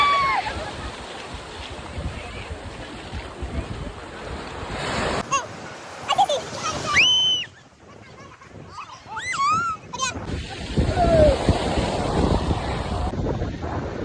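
Sea waves wash onto the seashore with steady broadband surf roar and wind buffeting the microphone, briefly dropping in the middle while faint voices and birdlike calls come through before the surf swells back.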